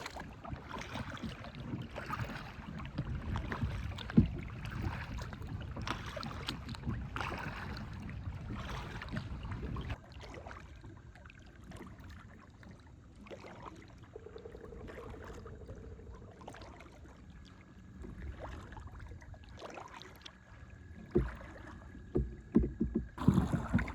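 A kayak is paddled across a lake or river in southern Ontario, with repeated rhythmic splashes and drips of the paddle close by and light wind buffeting in the background.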